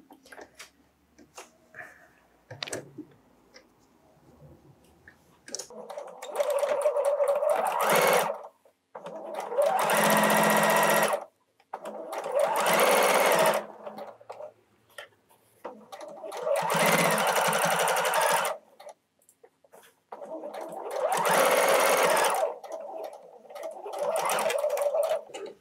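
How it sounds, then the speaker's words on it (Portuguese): A sewing machine stitches a fabric face mask in repeated runs of rapid, close mechanical whirring, each lasting a few seconds and separated by short quiet pauses and faint handling. "Agora vamos fazer as costurinhas."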